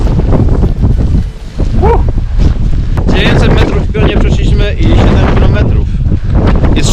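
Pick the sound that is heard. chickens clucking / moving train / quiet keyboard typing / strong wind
strong wind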